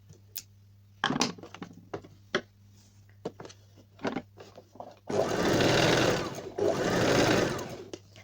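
Short clicks and handling taps of fabric at a sewing machine come first, then the machine stitches a kurti back neck strip seam in two loud continuous bursts with a brief pause between them, close by.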